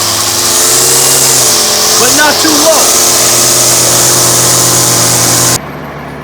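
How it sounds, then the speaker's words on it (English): A Weedeater string trimmer edges a lawn border, its steady high whine droning loud and close throughout with a brief pitch wobble midway before cutting off near the end, while someone speaks briefly over it. "I keep that Weedeater head parallel to the ground,"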